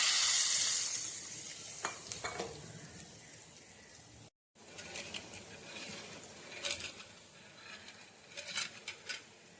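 Steady sizzling of a spice tempering in a pan with a brief pause, then renewed crackling and bubbling as raw-mango dal soup hits the hot oil; no voices.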